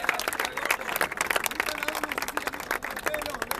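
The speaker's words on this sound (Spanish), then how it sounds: "Un aplauso, aplauso." An audience claps and cheers at a rap battle final in Santa Fe, a dense burst of applause mixed with crowd noise while voices talk over it.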